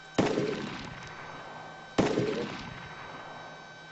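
Two loud rifle shots in the survival video game DayZ, fired about two seconds apart, each a sharp crack with a decaying echo tail, no talk.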